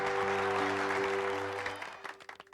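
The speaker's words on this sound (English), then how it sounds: "I love the clapping." Applause from a crowd in the video game Super Robot Wars Y, loud, dense clapping over sustained musical tones that fade out, leaving a few scattered claps at the end.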